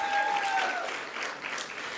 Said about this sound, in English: Another round of applause for them, please, ladies and gentlemen.